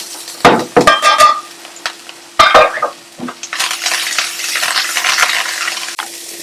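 Dill being stirred into a salmon risotto in a pan, heard as a few loud scraping, clinking strokes at the start, then a steady soft sizzle and bubbling with scattered light spoon taps.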